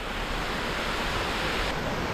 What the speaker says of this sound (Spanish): Y ahí cae la cascada.